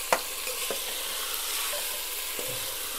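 Half a kilo of mutton keema fries in a pan, with a soft continuous sizzle and a few spoon knocks and scrapes as it is stirred, fairly quiet, no voices.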